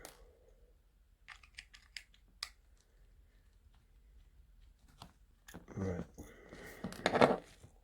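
A small screwdriver backs tiny screws out of a second-generation iPod Mini, making faint, close, sparse ticks and clicks. Louder scraping and handling noises follow near the end.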